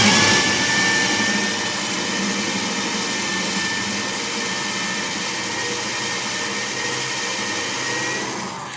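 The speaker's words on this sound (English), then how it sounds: "You can hear the drill" A power drill with a hole cutter bores into material, a steady high whine that holds loud and constant for several seconds, with no voices.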